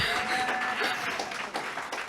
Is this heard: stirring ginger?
no